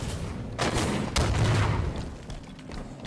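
Gunfire and explosive booms in the Halo 5 Fiesta Slayer game mode, a dense, loud barrage with a heavy blast around a second in, rumbling on steadily with no talking.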